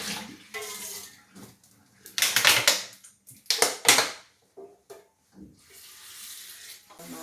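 A frying pan scrubbed under a running kitchen sink tap: bursts of gushing water and splashing, with scraping and clattering of the pan between quieter stretches of trickling water.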